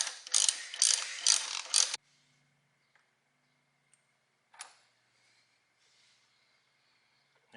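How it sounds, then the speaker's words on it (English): Ratchet with a 12 mm socket working on a Yamaha R6 brake caliper, a loud close burst of rapid clicking lasting about two seconds, then near silence with a faint clunk or two. "the 12 millimeter goes here, and this will effectively be able to remove the caliper out."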